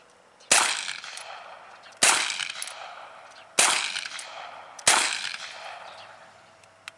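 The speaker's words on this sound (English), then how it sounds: "I kind of like shooting the new one better." Four loud, sharp gunshots from a Ruger PC Carbine, each with a trailing echo, spaced roughly a second and a half apart with no talking.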